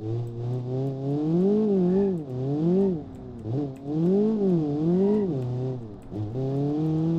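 Turbocharged Polo GTI in the BeamNG.drive driving game, its engine revving up and down in repeated rising and falling pitch sweeps, loud and close, with brief dips between gear changes and no talk.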